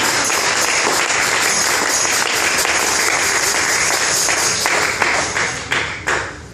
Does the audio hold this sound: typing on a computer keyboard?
no